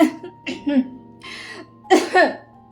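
A few short, light coughs close by, separated by brief pauses, with faint voiced sounds between them.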